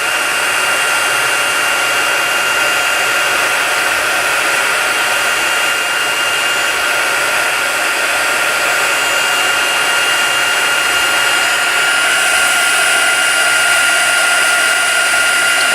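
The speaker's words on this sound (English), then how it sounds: "And then I'm just going to melt the clear embossing powder." A heat tool blows steadily to melt clear embossing powder on a handmade card, a loud, continuous hissing whoosh of hot air held close throughout with no talking.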